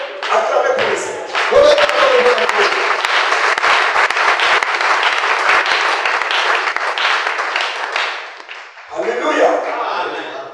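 A church congregation applauds and cheers for the Lord in dense, sustained clapping with scattered shouts, loud and close. The clapping briefly thins near the end before another burst.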